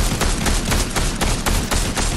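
Loud, dense gunfire in a shooter video game, rapid automatic bursts firing almost continuously with a steady stuttering rhythm, close and dominant with no talk.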